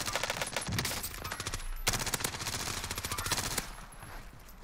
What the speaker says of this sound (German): Das war auch der Typ, der auf uns geschossen hat.